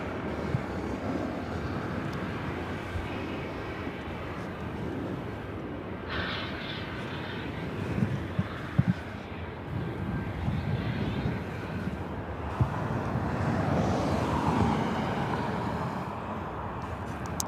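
A Southwest Airlines Boeing 737-700 arriving at LAX, its engine roar steady and moderately loud throughout with broadband rumble swelling slightly toward the end, wind buffeting the microphone.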